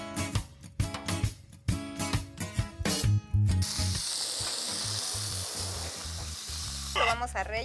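Meat seasoned with salt and pepper sears in a little oil on a hot pan, a loud steady sizzle rising after a few seconds of louder clattering and stirring, then continuing as a constant hiss.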